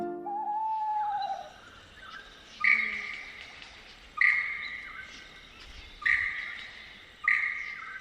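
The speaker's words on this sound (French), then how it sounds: "c'est le logiciel de base de l'oiseau lyre, sa voix originelle." Lyrebird singing its own natural song: a short low warble, then repeated bright ringing whistled phrases roughly every one and a half seconds, clear and fairly close over faint background.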